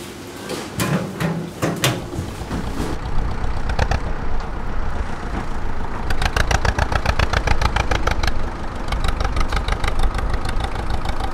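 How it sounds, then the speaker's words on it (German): A Hanomag tractor engine runs steadily close by, a throbbing mid-pitched idle with rhythmic pulses that quicken and firm up after a few seconds, with no talk over it. "Ich fahre jeden Tag mit dem Hanomag hinaus."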